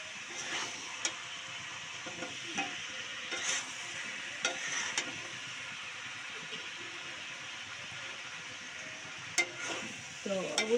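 Panch phoron spices sizzling in hot oil for hotel-style mixed vegetable bhaji, a soft continuous frying hiss with occasional light stirring clicks and a clatter of utensils at the end.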